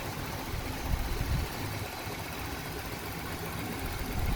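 A car engine idles steadily for several seconds, a low continuous rumble with no voices.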